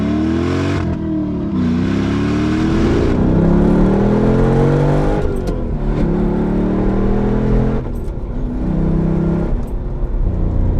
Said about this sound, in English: Do a little first gear run here.